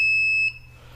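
Buzzer on a Xolcano ESP8266 IoT development board gives a single sharp, piercing high-pitched beep lasting about half a second, close and loud, then cuts off into quiet.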